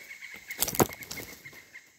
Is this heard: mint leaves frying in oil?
no